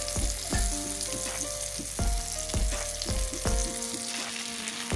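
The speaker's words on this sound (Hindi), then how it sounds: "तो आप देखिए आप बहुत अच्छी तरह से फ्राई हो रहे हैं" Beef resha shami kebabs fry in hot oil with a close, crackling sizzle, broken by several sharp clinks and scrapes of a spatula against the pan at intervals, no speech.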